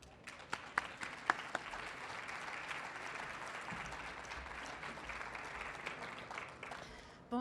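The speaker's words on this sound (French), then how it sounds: "j'aimerais souligner et applaudir tout de suite Hélène Legault." An audience at the opening ceremony of a book fair (Salon du livre) claps in a steady, sustained round of applause that fills the room, with a brief voice near the end.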